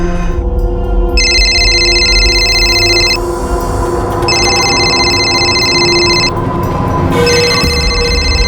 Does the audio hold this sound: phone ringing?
yes